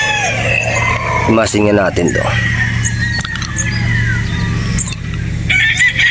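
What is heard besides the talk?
rooster crowing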